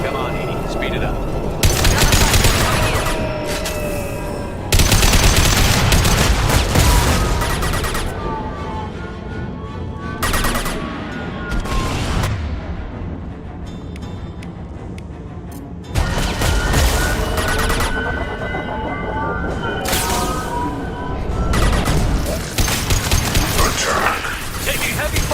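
Gunfire in a Mass Effect Legendary Edition firefight: repeated loud bursts and volleys of weapon fire with impacts, broken by short gaps, mixed with game voices talking.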